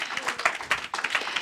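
A brief burst of audience clapping follows a talk on educational marine areas, individual claps distinct and uneven in a short, moderately loud patter with faint voices beneath.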